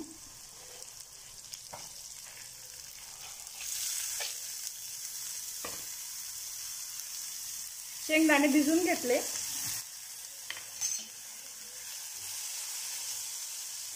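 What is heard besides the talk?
moth beans frying and stirred in onion-ginger-garlic tempering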